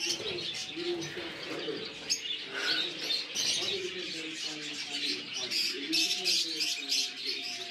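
Zebra finches in a Barisal bird-farm cage give busy, overlapping chirps and calls, mixed with other small birds. The calls run steadily throughout, with a person speaking nearby.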